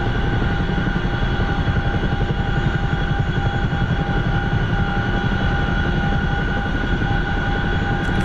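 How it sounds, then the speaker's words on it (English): A Chinook helicopter in a flight simulator game drones with a steady, loud rotor and engine roar, broadband and constant throughout with a faint high whine layered on top, no voices. "we're flying a Chinook with the power of the Chinook"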